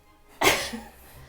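A single short sneeze bursts out sharply, followed by a brief faint trailing breath, alone and close.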